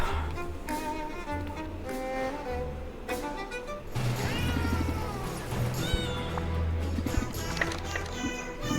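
A cat in the video game Potionomics meows over and over, in high, drawn-out cries and short chirps against a bouncy game music loop with clopping, hoof-like beats.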